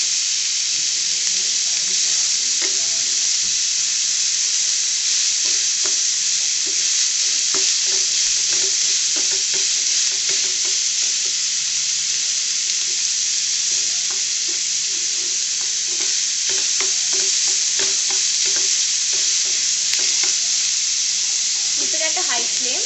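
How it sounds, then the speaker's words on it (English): Vegetables sautéing on a high flame for a Maggi samosa filling, with a strong steady sizzle and frequent clattering stirring strokes of a spoon in the pan, and no speech. "Saute the vegetables properly."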